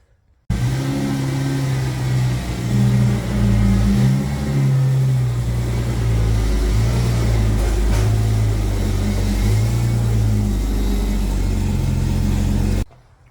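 Ford Mustang pulled slowly into a home garage, its engine idling and revving in short surges close by, steady for about twelve seconds before cutting off.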